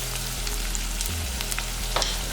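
Shallots and onions sauté in a pan over a low flame, a constant close sizzle and crackle with a few soft stirring clicks, no talking.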